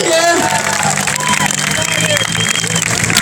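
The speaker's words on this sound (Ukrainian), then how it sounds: "Оплески нашому переможцю, нашому іслами." Applause and crowd noise for the winner of a dumpling-eating contest at an outdoor Independence Day event in Odesa, a dense, steady clatter of clapping under a voice speaking over it.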